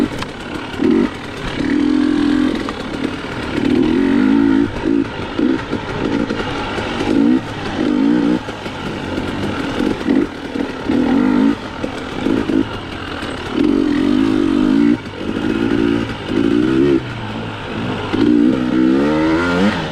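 Dual sport motorcycle ridden hard off-road, its engine revving and surging in repeated bursts as the rider shifts and throttles, loud and close throughout with wind noise.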